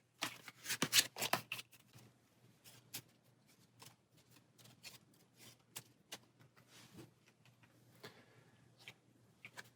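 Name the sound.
shuffling cards into an Arkham Horror encounter deck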